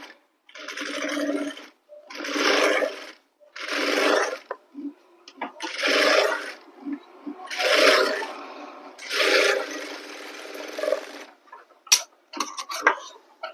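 A sewing machine stitches a blouse neck lining in about seven bursts of a second or two each, separated by short pauses, close and fairly steady, with no talking.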